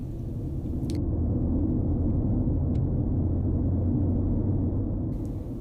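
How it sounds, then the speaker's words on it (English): A car driving on a winding road as it steers around bends, heard as a steady low engine and road rumble from inside, continuous and fairly loud, without speech. "we adjust our car's speed and steer smoothly around the bends"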